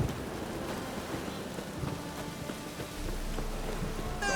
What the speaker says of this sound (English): Rain like this would fetch a fortune in Zerrikane.